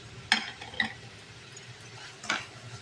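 A spoon stirs grated carrot for gajar halwa in a pan, giving three short clinks against the metal spaced apart over a soft background hiss.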